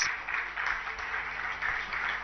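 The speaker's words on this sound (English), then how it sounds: "round of applause" An audience at the inauguration of a Google for Startups centre gives a steady round of applause, a dense, somewhat distant wash of clapping heard on its own.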